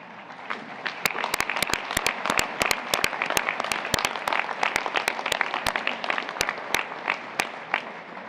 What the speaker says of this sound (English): If you will please stand up so we can all recognize you and applaud you.